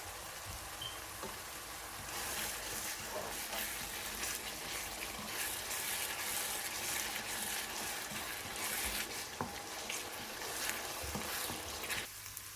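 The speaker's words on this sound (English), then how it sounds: "Back to those sizzling onions that have now turned into flavor central." Onions sizzle in a pan with ginger paste and spices for a Burmese chicken masala curry, a steady hissing crackle with faint stirring clinks, quiet and continuous, softer at the start.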